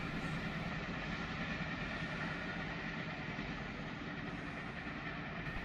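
A train led by locomotive 4903 rumbles past at Carlton, a steady low, broadband roar with no distinct horn, heard alone at moderate distance.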